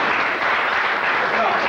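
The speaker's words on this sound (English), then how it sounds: "It's nice to know that there are some rounds of applause here today" A steady wash of audience applause, dense and continuous, runs evenly through the short stretch at moderate loudness.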